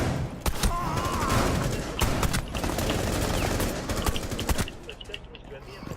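Rapid gunfire in the video game Rainbow Six Siege, with sharp repeated shots and bursts cutting through a busy mix of game noise, loud and close, while a player talks over the action.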